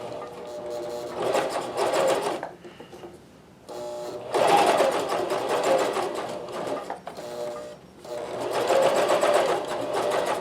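A Janome CoverPro 1000CPX coverstitch machine runs loud and close in three sustained stitching bursts on light fabric, with brief pauses between them and no talk.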